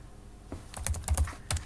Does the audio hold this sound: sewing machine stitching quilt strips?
no